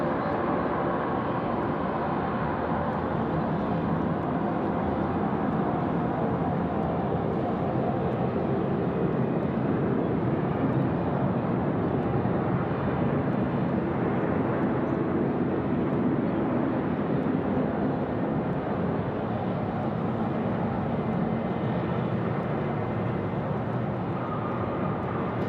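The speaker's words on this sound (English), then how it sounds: "We're going to enjoy our Asiana friends now coming in runway left." Asiana heavy jet airliner landing on the left runway at Sydney Airport: a broad, continuous roar of engine and air noise, steady and moderately loud throughout, with no one talking over it.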